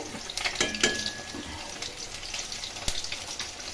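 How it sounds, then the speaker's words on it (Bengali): Potatoes, carrots and a paste of onion, garlic, ginger, chili and tomato fry in hot oil with panch phoron, sizzling steadily while a utensil stirs and clinks against the pan a few times. "এখানে গরম তেলে পাঁচফোড়ন ভেজে নিয়ে এর মধ্যে আলু এবং গাজর দিয়ে দিলাম।"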